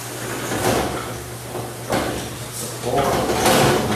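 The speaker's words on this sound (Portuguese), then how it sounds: "Fecha essa porta aqui por causa do barulho." A door swings shut indoors during a sermon-style talk, with soft bumps and a sliding, latching noise under continuous speech.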